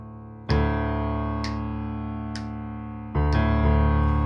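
Piano left hand playing open fifths in a repeating rhythm, two sustained low chord strikes with lighter repeated attacks between them, close and clear with no talking.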